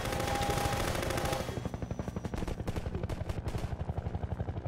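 Enemy gunfire in Half-Life 2, a rapid machine-gun burst firing steadily in an even rhythm, loud and close, continuing without pause as a whining tone sounds early on.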